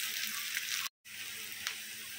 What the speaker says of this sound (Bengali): এখন পেঁয়াজ কিছুটা সাদা থাকবে, কিছুটা গোল্ডেন হবে, সে পর্যন্ত পেঁয়াজগুলো ভেজে নেব।